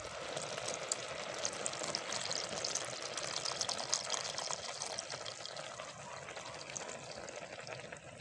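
Alaska evaporated milk pours steadily into a pot of beef macaroni soup, a continuous close liquid splash and hiss lasting several seconds.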